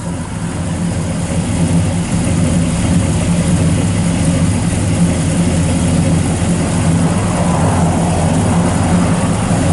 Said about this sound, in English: Fires up, sounds good. It's got your factory exhaust manifolds and the duals out the back.